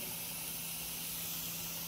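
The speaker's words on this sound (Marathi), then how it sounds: "आता फोडणी देऊन घेते कढईमध्ये" Tempering of spices sizzling in hot oil in a kadhai while bitter gourd sabzi is prepared, a steady close, even hiss throughout with no talking.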